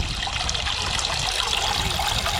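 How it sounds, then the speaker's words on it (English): Water running down a small pondless garden waterfall built over concrete with cobbles, a steady close trickle and splash that continues unbroken with no voices. "so we've got one waterfall there"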